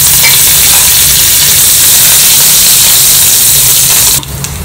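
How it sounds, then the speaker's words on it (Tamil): Mustard seeds, urad dal and curry leaves crackle and sizzle loudly in hot oil in a kadai, a dense, steady hiss that drops away abruptly just before the end. "அடுப்பில் கடாய் வச்சு எண்ணெய் விட்டுருக்கேன் கொஞ்சம் கடுகு உளுத்தம் பருப்பு கருவேப்பிலை"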